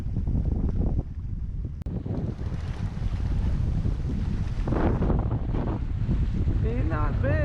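Strong wind roars steadily over a fishing boat on Lake of the Ozarks, with heavy buffeting against the microphone and water sloshing throughout, loud and close.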